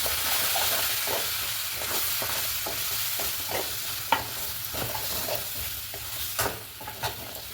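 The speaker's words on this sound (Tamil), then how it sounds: "இப்போ இது எல்லாமே நல்லா மிக்ஸ் பண்ணிக்கலாம்." Masala for potato kara kuzhambu is stirred and fried in a pan, giving a steady sizzling hiss with soft irregular scraping taps from the spoon, close up and with no talking.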